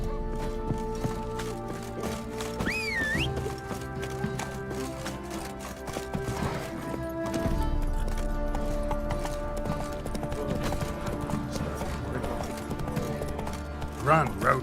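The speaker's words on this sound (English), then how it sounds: "Run, Roach." A horse's hooves clip-clop at a run in The Witcher 3 video game, a steady rhythmic beat under game music, with a brief whinny and a voice speaking over it.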